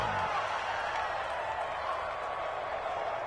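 Stadium crowd in a PS4 football video game, a steady wash of cheering and applause swelling as a big third down approaches, continuous and moderately loud with no distinct voices standing out.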